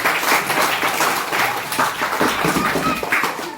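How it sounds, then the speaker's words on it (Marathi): A crowd claps loudly and steadily for several seconds at an umbrella distribution event at a village school, a dense burst of applause with no speech over it. "एकदा आपण पुन्हा एकदा जोरदार टाळ्या वाजवूया"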